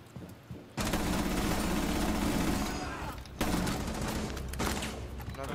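Sustained bursts of gunfire in Rainbow Six Siege, dense and loud, running almost without pause across the clip with a brief gap midway and a voice talking faintly beneath.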